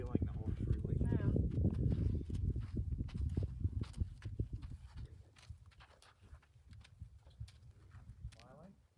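A ridden horse walks with a steady clip-clop of hooves outdoors, loud at first and fading as it moves away, while people talk over much of it.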